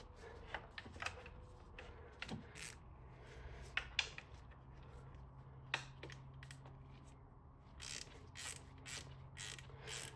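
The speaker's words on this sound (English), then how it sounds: "so back to T30 and 10 millimeter socket and wrench combos" A socket wrench ratchets off the 10 mm cam cover bolts on a VW MK7 Golf GTI with the EA888 Gen 3 engine, giving faint, sparse clicking bursts with gaps between them and a low background hum.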